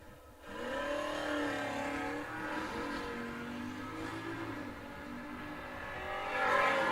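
Fox body Ford Mustang drag race cars at a 660-foot bulb-start drag strip, a loud sustained engine roar with wavering revs across the run, swelling louder near the end.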